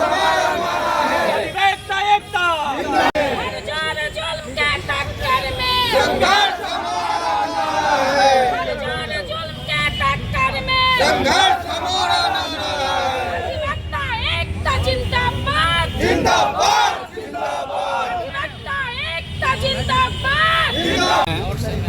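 A large crowd of lawyers on a protest march shouts and chants together outdoors, loud and continuous, with voices rising and falling in rhythmic bursts.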